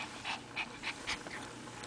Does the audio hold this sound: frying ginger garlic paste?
no